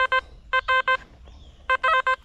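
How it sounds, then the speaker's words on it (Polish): Metal detector signalling over a buried coin in a field dig: a series of short, sharp electronic beeps comes in quick bursts of one to three pulses, close and clear over a faint low rumble. "Sygnał jest na monetę, ale może być na jakąś też blaszkę, dodatku."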